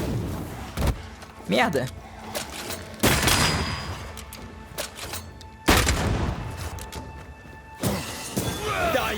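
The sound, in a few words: enemy shooting in Banishers: Ghosts of New Eden video game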